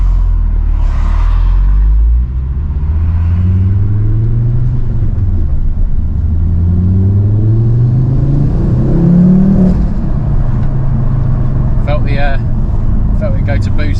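A Ford Focus RS Mk2 hatchback's turbocharged engine rumbles and climbs in pitch through several gear pulls as it accelerates and comes onto boost, heard from inside, with a person talking over it.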